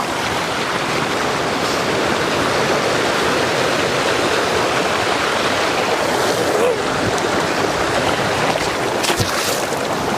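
A river in Uttarkashi rushes past the bank in a loud, steady wash of water that never lets up, with voices faintly present beneath it.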